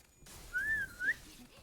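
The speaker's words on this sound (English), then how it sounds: "I whistle like this at people" A person whistles a short, clear, wavering tune lasting about half a second, rising and dipping in pitch before ending on a higher note, alone against quiet background noise.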